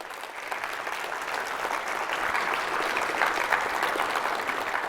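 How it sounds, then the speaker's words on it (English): Sustained crowd applause for a sponsor at a national school drone race, many hands clapping evenly at a steady, moderate level without speech. "Round of applause for Warren County."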